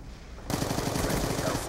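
A mortar strike lands during a Call of Duty Black Ops II multiplayer Domination match on the Slums map: after a quiet moment, a sudden loud burst erupts and continues as a dense, rapidly pulsing crackle and rumble until the end.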